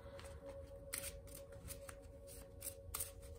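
Small, airy, papery hand-stenciled reproductions of Jean Noblet tarot cards get riffle shuffled, making soft, faint, rapid fluttering riffles in quick bursts over a low steady hum.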